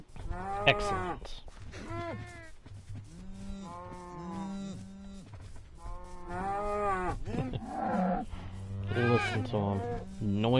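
Cows in Minecraft Bedrock Edition moo repeatedly, a string of drawn-out overlapping moos from several animals close by, loud and continuous across the whole stretch.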